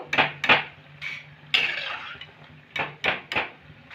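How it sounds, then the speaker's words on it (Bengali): Crisp fried cashew-shaped nimki lifted out of a frying pan, several sharp clinks and scrapes of a metal spoon against the pan in irregular bursts, close and fairly loud with no talking. "এবার আমি এগুলো তুলে নেব"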